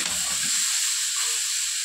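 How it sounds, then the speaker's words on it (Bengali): Ridge gourd and yardlong beans fry with onion in a hot pan, giving a steady, close sizzle with faint stirring scrapes underneath and no voices. "এই যে দেখো যে ঝিঙে আর বরবটিটাকে ভাজা হচ্ছে পেঁয়াজ দিয়ে।"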